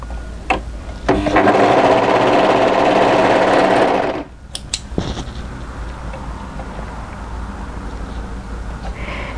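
An overlocker sewing machine stitches the short edge of a knit sweater neckband, running in a loud steady whir for about three seconds after a few short starts, then stopping, followed by faint handling clicks.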